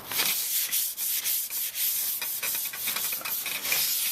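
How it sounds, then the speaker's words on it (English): Steady close rasping of 400 grit waterproof sandpaper wrapped around a scuff pad, lightly scuffing a painted chrome grill surround on a Toyota Tundra, in quick back-and-forth strokes with a hissy, even texture throughout. "I'm just going to give it a real light scuffing with this"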